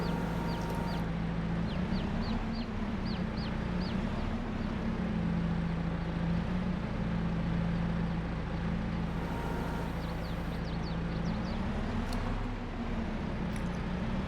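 Chickens cluck softly in the video game Farming Simulator 22, with faint, scattered calls over a steady low machine hum.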